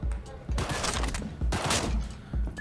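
Bursts of automatic gunfire from a Cyberpunk 2077 gameplay session, three dense volleys with short gaps between them, loud and close in the game mix.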